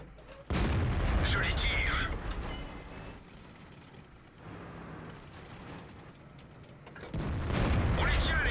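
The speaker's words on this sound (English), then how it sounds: "Yep, he's gonna fire on me." Tank cannon fire and rumbling battle noise in World of Tanks, with loud broadband blasts at the start and end framing a quieter stretch of engine and ambient game sound.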